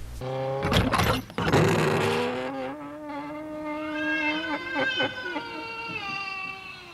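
Drawn-out cat meows and yowls rise and bend in pitch, loud and close, with a harsh scraping burst early on, from the 1987 Japanese film The Red Spectacles.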